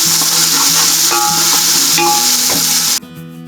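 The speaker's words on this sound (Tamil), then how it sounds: "இஞ்சி பூண்டோட பச்சை வாசனை போகிற வரைக்கும் வதங்கட்டும்." Ginger garlic paste frying in a pan for veg brinji rice sizzles loudly and steadily with a few stirring scrapes, then cuts off abruptly near the end.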